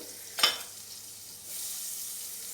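Butter hitting a hot pot for chicken soup: a short sharp sizzle burst, then a softer steady frying hiss that rises again and holds, close and alone.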